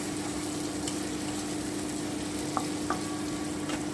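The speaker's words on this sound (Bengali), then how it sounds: "একটু ভেজে নিন এই যে আমার ভাজা প্রায় হয়ে এসেছে" Broken wheat (dalia) being dry-fried in a pan for khichuri, with a steady low sizzle and hiss, a few light clicks of a spoon against the pan, close and even, with no voices.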